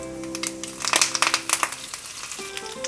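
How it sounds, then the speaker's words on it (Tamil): Crackling, popping sizzle of mustard seeds and curry leaves frying in hot oil, quick irregular spits close by, fairly quiet. "இப்போ கடுகு வெடிக்க ஆரம்பித்தோன்னே கருவேப்பிலையே போட்டுடலாம்"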